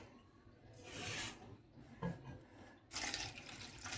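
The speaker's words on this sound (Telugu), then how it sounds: "వాటర్ వేసి ఒకసారి బాగా కడుక్కొని 1-2 సార్లు బాగా కడుక్కొని" Flattened rice (poha) being rinsed with water in a bowl, a soft wet swishing and splashing that swells and eases in a few bursts, close by with no talk.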